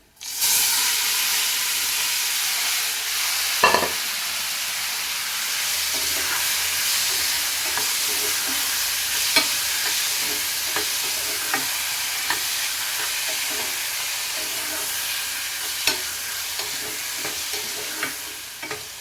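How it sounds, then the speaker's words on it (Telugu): Loud, continuous sizzling of bottle gourd pieces frying in hot oil with tempering spices, with occasional stirring clatters and crackles throughout; no talking. "పోపు అయితే మంచిగా అయ్యింది ఇప్పుడు మనం సొరకాయ ముక్కలు ఇందులో వేసేసుకోవాలి"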